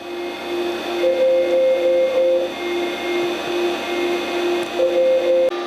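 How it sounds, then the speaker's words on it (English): A dynamotor generator inside an AN/GRC-9 military backpack radio whirs steadily and fairly loudly, with a constant electrical hum and a higher whine that fades in and out, no talking. "that wonderful whirring noise you're hearing is the dynamotor generator supplying"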